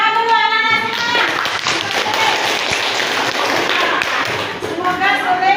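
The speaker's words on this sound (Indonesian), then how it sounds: "bolehlah tepuk tangan dulu anak-anak semua." Children in a classroom clap together, a dense burst of close applause lasting several seconds, with a teacher's voice just before and after it.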